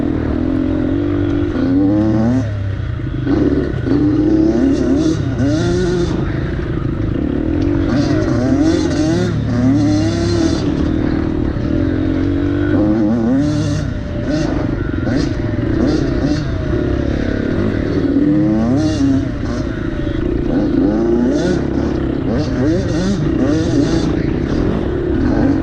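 Dirt bike engine pushed hard through the cross test of a fall sprint enduro race at Battle Creek, Michigan, captured by a GoPro Hero 7 on the rider: a loud, continuous, close engine roar with repeated rising and falling revs as the rider shifts and throttles.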